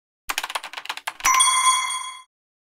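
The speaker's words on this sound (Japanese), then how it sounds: "ピンポン。" A quick run of light tapping clicks gives way to a single bright electronic doorbell chime that rings clearly for about a second, then stops.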